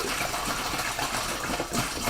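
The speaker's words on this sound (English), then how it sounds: "Okay, so I'm going to just put the water in." Water pours steadily into a pot for chicken herbal soup, a continuous splashing gush that runs unbroken for a couple of seconds with no voices over it.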